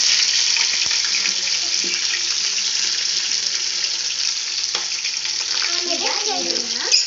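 Sliced onions sizzle steadily in hot oil in a pan with whole spices for dum biryani, a close continuous frying hiss with occasional stirring scrapes and light clinks.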